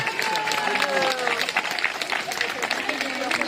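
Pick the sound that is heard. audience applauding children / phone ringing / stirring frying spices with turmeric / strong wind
audience applauding children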